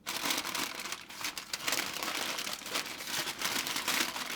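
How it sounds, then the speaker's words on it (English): Sheets of paper wrapped around a mincemeat roly poly being folded over and crinkled to seal, a close, continuous crackling rustle with uneven bursts throughout. "I'm going to pick up both papers and I'm going to fold them over to create"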